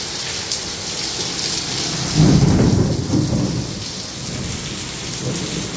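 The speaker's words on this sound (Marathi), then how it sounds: "जवळजवळ एक तास खूपच भयानक असा पाऊस पडतोय" Heavy rain pours steadily through a thunderstorm that has lasted nearly an hour, with a deep roll of thunder swelling in the middle before fading back under the constant downpour.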